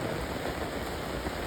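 Steady rain falls during an outdoor religious gathering, a dense, continuous hiss of drops on surfaces, even and unbroken with no voices.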